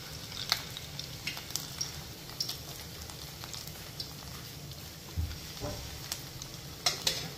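Fish fingers fry in hot oil with a faint, steady bubbling sizzle, broken by a few sharp crackles and pops as pieces go into the pan.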